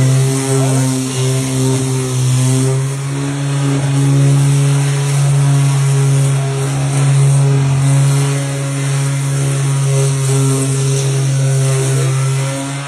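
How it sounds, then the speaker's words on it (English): Power sander running steadily while stripping layers of paint off wooden stair banisters, a loud continuous motor drone with a strong buzzing tone that wavers slightly as it works, with no talk. "Gonna run the sander over that now."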